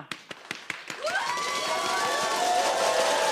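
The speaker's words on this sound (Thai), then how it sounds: "ทุกคนปรบมือค่ะ" A live fan-meeting audience gives a few sharp scattered claps, then erupts into loud, sustained cheering and high-pitched screams that carry on to the end.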